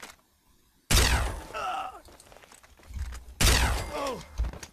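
Two sharp, loud weapon blasts from the video game Fallout 3, a few seconds apart, each with a crackling decay and quieter thuds and rattles in between.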